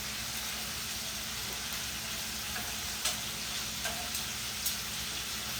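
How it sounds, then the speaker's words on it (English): Small pieces of meat fry in a pan with a soft, even sizzle, and a few faint clicks and scrapes come as the pieces are turned over, heard close with no voices. "now I'm going to flip them all. These are getting brown pretty fast."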